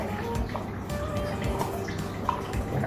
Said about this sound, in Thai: เดี๋ยวเราเทน้ำแต่ละอย่างลงไป